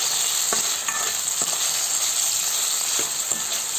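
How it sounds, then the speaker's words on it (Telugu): Chopped tomatoes frying in hot oil for a Rayalaseema bottle gourd curry, with a steady, close sizzle and occasional scraping stir strokes, no voices. "ఇవి కూడా ఆయిల్లోనే బాగా మెత్తగా అయ్యేంతవరకు ఫ్రై చేసుకుందాం."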